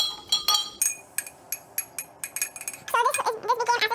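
A metal spoon clinks rapidly against a glass while stirring red cabbage indicator solution, a quick series of bright ringing taps, followed by a person talking at the end.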